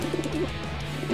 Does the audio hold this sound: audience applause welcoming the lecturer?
no